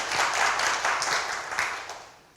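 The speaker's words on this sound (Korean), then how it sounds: "다시 한번 큰 박수 부탁드리겠습니다." An audience applauds at an urban regeneration forum, a dense wash of clapping at moderate level that holds steady and then tapers off toward the end.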